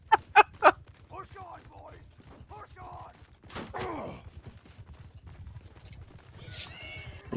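A horse in a video game whinnies and snorts amid hoof clip-clops, with sharp impact sounds at the start and a rising whinny near the end, heard close under busy game noise.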